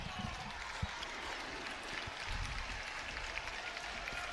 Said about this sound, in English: Crowd a little restless.